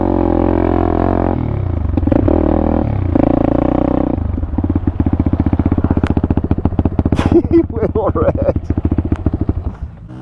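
Pitster Pro 190 pit bike ridden hard off-road in first gear in the mountains, its loud buzzing engine revving and bouncing over terrain, with people talking over it.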